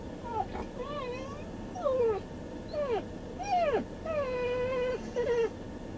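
A police dog in the back seat of a patrol car whimpers and whines in a series of high, rising and falling cries, several in a row, fairly close, over a low vehicle rumble.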